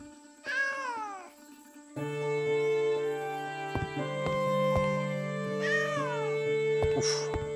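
A cat in the video game Travellers Rest meows twice, with a rising-and-falling call near the start and another about five seconds later, both heard clearly over steady, tonal in-game music.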